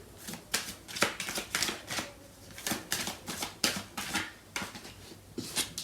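Tarot cards are shuffled and drawn by hand, giving irregular close riffles, slaps and flicks of card stock at a moderate level with no talk over them.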